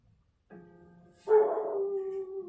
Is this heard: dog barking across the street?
yes